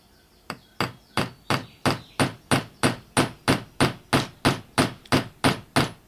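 Crochet needle with a sharpened base being hammered into a wooden handle, about sixteen sharp, evenly spaced taps in a steady rhythm, close and clear with no talking.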